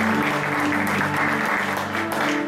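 A church congregation claps together in a sustained burst of applause, loud and close, with voices calling out over the clapping.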